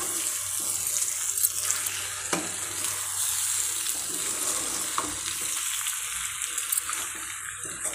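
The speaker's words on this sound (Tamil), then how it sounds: "இதை நல்லா நாம் வதக்கிக்கலாம்." Maggi pasta masala sautés in a hot pan with a dense, steady sizzle, broken by the scrape and clatter of stirring. The cooking sounds are close and run throughout.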